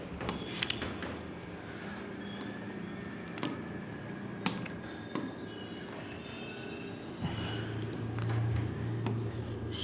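Pen or chalk writing out the photosynthesis equation during a Class 10 biology lesson, with steady scratchy strokes and occasional taps across the clip, fairly close with no talk.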